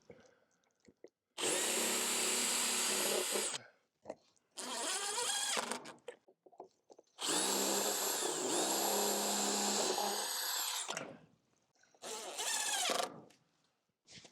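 Power drill driving screws to fix gutter hangers for a rainwater collection system, four long whirring bursts separated by short pauses, close and steady, with no talking.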